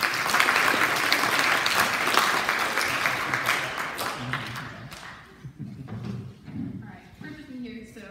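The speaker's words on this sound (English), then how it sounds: "Are we supposed to clap for Andy?" An audience at a ceremony breaks into loud, dense applause that gradually thins out into scattered claps, with a few voices speaking as it fades.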